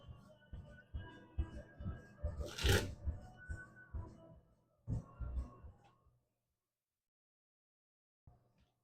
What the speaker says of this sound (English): I do like the fact that there's hand shuffling